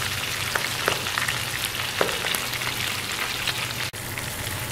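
Pork belly frying skin-side down in hot oil, a steady loud sizzle with scattered pops and crackles throughout, close up and with no talking.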